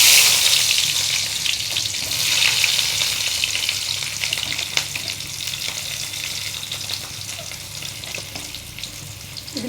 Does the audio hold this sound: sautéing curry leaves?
yes